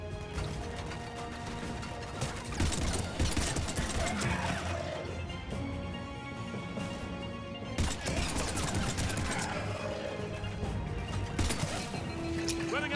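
Enemy gunfire in the video game Mass Effect 3 Legendary Edition: dense, continuous rattling shots and impacts over a steady game soundscape, loud and sustained across the whole stretch with occasional sharper crashes.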